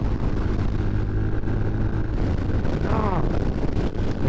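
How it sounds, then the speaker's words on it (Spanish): Strong gusty wind roars across the microphone on a Yamaha YBR motorcycle riding Ruta 7 at about 67 km/h during a sandstorm, a constant loud buffeting rumble with the engine blended underneath and a brief voice. "No, está brutal el viento."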